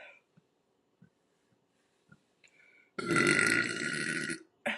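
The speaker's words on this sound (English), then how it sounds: "so it is a lot of burping." A single loud, long burp from a woman, rough and sustained for nearly two seconds after a few soft clicks and small mouth sounds in a quiet room, close to the microphone.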